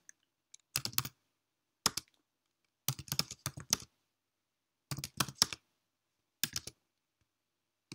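Someone types a sudo nano command on a computer keyboard to open an Apache configuration file. Short clusters of crisp key clicks come in separate bursts with quiet gaps between them, close and fairly loud.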